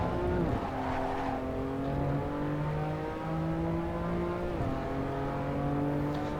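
A race car in a sim racing video game revs and shifts through oversteer, its engine note rising and falling continuously, with brief gear changes and no talking.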